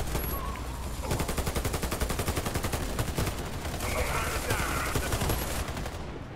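Sustained automatic gunfire in the shooter Warface on Nintendo Switch during the WEGA-5 storyline, a steady fast rattle of shots running nonstop over busy battle noise.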